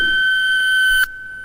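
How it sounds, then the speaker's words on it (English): A browser video game sounds an alarm: a steady, piercing electronic tone held for about a second, then it suddenly drops to a softer lingering tone. "Jed was relaxing when an alarm jolted him."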